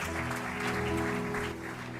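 A congregation at an online Sunday church service applauds together, a steady sustained wash of clapping blended with sustained musical tones from the worship band beneath.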